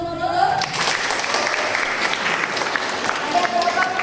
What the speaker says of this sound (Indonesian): Oke, tepuk tangan untuk Nurul.